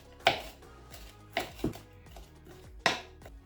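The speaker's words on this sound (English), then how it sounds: "Chop the pepper the same way." A knife chops a pepper on a board with four sharp, separate strikes spaced unevenly, fairly quiet and close, in an otherwise still kitchen with no talking.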